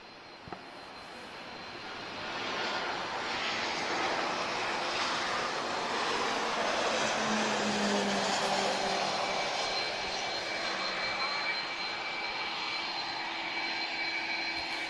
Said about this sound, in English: Ryanair about to touch down.